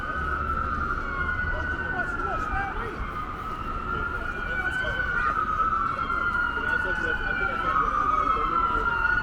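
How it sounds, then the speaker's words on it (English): Several emergency sirens wail at once in New York City during a snowstorm, overlapping and rising and falling against a constant hum of city traffic, with a voice briefly audible. "A lot of sirens all over the place here today."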